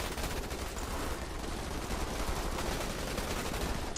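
Dense, continuous gunfire from massed troopers in the Starship Troopers: Terran Command strategy game, a steady crackling barrage that stays loud and unbroken throughout, with no speech.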